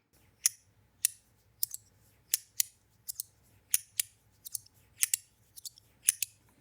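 Sharp, crisp plastic clicks from a CRUX fidget toy repeat irregularly, about a dozen in quick pairs and singles, close and fairly quiet with no talking.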